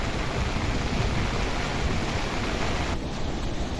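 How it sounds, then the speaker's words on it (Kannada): Heavy continuous rain near Bheemeshwara waterfall makes a dense, steady roar of broadband hiss, loud and unbroken, with no voices. "ಭಾರಿ ಮಳೆ ಐತಿ ಇಲ್ಲಿ"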